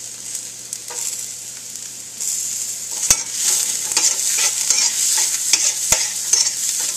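Onion, garlic and mushrooms fry in MCT oil, giving a steady close sizzle with scraping stirs and two sharp utensil knocks, with no voices.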